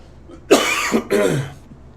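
A couple of harsh, close coughs in quick succession, loud and raspy, with no talking.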